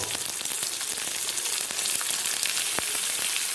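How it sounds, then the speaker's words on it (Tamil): Onions and curry leaves sizzle and crackle in hot oil with urad dal and cumin, a steady dense frying hiss with small pops, close and continuous. "இப்போ அது கூட வெங்காயம், கருவேப்பிலை ரெண்டும் சேர்த்து நல்லா தாளிக்க போகிறோம்."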